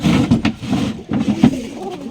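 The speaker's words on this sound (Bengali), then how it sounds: "হাসিবুল ভাইয়ের কালো কবুতর মা কালো কবুতর" Black pigeons on a pigeon farm coo in low, throaty pulses, several soft calls overlapping at close range against steady background murmur.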